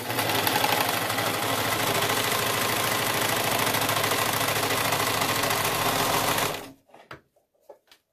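A serger sewing machine stitches fabric for a ponytail scrub hat, a fast steady whirring hum that runs loud and unbroken for about six and a half seconds, then stops abruptly, leaving a few faint clicks and handling sounds.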